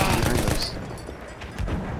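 Mounted turret machine gun firing in Battlefield 1 hardcore multiplayer, a loud rapid burst of shots at the start that fades out, then resumes briefly toward the end amid battle noise.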